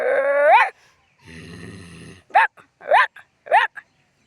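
A boy imitates a dog with his voice, giving a sharp whining yelp, then a low growling rumble, then three short barks spaced about half a second apart, loud and close in a quiet room.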